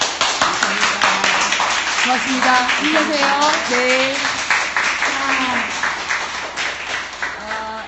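Audience applause at a memorial reading gathering, steady clapping running throughout while several people speak and voices carry over the claps.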